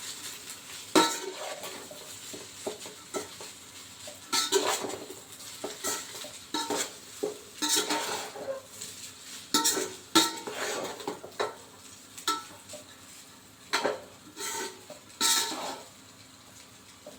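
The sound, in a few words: stirring egg fried rice in a pan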